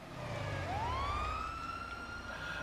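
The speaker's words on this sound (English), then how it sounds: "here come the ambulance" An ambulance siren in GTA Online, one rising wail that climbs and holds a steady tone, moderately distant over a low engine rumble, with no talk.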